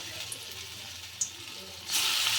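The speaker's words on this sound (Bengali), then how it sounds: "মেখে রাখা পটলটা আমি এইভাবে ছোট ছোট বড়ার আকারে ভেজে নিচ্ছি" Small flattened fritters of pointed gourd fry in refined oil on a gas stove, a gentle hiss that swells into a louder, bright sizzle near the end.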